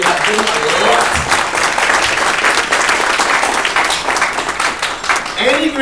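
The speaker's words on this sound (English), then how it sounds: "I want you all to give them a round of applause" Steady, loud applause from a crowd fills an Independence anniversary luncheon for Grenada, continuous dense clapping with voices audible underneath and a brief shout or cheer near the start and end.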